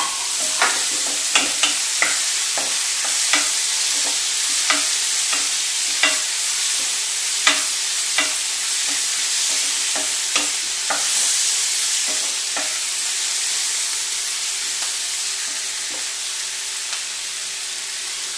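Capsicum sizzles and fries in a pan while being stirred for chilli soya, with a constant hiss of frying broken by regular sharp clinks and scrapes of the stirring utensil, close and continuous.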